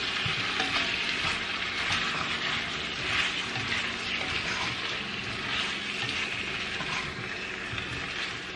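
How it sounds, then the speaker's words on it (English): Potatoes sauteing in oil in a Dutch oven, a steady close sizzle with light stirring scrapes running throughout without a break. "We're going to saute this for about 5 minutes."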